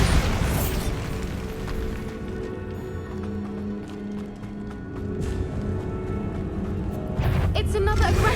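A Bombarda spell explosion in Hogwarts Legacy bursts with a deep boom amid continuous game combat noise, music and effects, with a second heavy blast near the end of a dense, busy mix.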